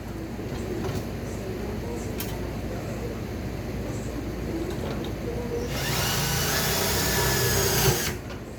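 A power drill drives self-tapping sheet metal screws while a Coke machine's upper evaporator assembly is installed, a steady whirring motor that swells into a louder, harsher burst near the end.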